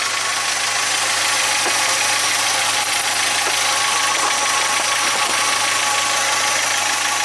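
Geo Tracker engine idling steadily with a faint alternator whine, a constant even drone with a few light ticks and rattles, heard close and without talk.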